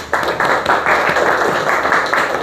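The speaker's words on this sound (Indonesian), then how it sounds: "Kita kasih aplaus" A classroom of students applauds a classmate with a burst of steady, fairly loud clapping from many hands that holds throughout and carries no talk.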